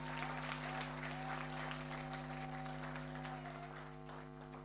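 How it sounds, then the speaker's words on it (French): An audience applauds at a company's second anniversary celebration. Faint, even clapping continues throughout over a steady electrical hum and fades slightly at the end. "Applaudissez pour ces jeunes, s'il vous plaît."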